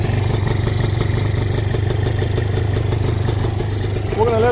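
A Yamaha 150cc two-stroke motorcycle fitted with a homemade twin exhaust idles steadily up close, a low, even engine drone that holds for several seconds before a faint rising whine near the end.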